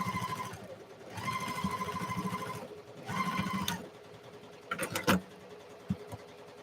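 A sewing machine, likely a serger finishing fabric edges, races through three quick stitching bursts in a row, each a steady, loud whir, followed by a few sharp clicks and knocks from handling.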